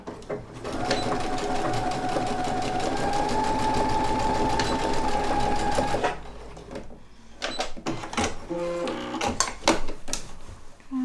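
A sewing machine stitching short lines on a handkerchief, a fast steady whirring run for several seconds, then stopping and giving way to a few short bursts and handling noises.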